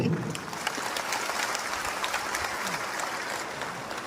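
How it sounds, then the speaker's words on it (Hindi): Applause from a crowd at a political party gathering: a steady, even wash of clapping that holds at moderate volume from start to finish, slightly distant. "तो जोर से ताली दो।"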